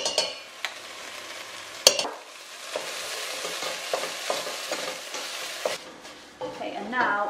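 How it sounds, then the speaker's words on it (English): Tandoori paste frying in a pan as a spoon stirs it, steady soft sizzling broken by scraping strokes and a few sharp clinks of utensil against the pan, close and moderately quiet. "start frying this off in the pan"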